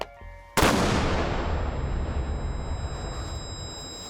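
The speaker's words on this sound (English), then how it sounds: "Even expecting that second time round, you can still utterly feel that blast" A military blast test fired near a mannequin standing two metres away: one sudden loud explosion after a quiet start, followed by a long rumbling decay.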